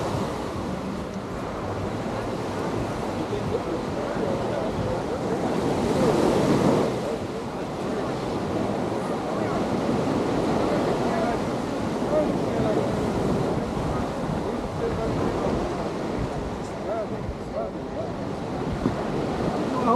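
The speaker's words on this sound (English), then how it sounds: "We'll go down where you guys can hear the waves, Cap." Ocean surf rolls onto Waikiki Beach in Honolulu in a steady, continuous wash of breaking waves, with wind rushing across the microphone and one louder swell surging in partway through.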